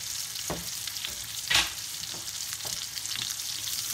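Whole onions drop into a hot pan of crisping bacon, giving a steady, close sizzle with a few soft knocks and stirring bumps rising above it.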